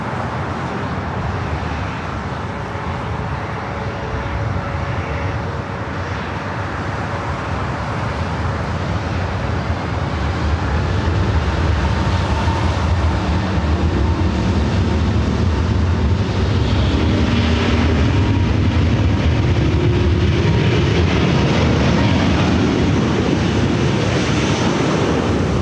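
An airliner taking off from runway 24 left at Los Angeles International Airport, a steady loud jet roar with wind noise that builds slightly and holds throughout, no voices.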